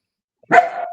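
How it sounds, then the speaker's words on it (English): Benny, a pet dog, gives one loud, close bark that trails off, heard alone after a brief silence. "That's my dog. Probably wants to get on We camera."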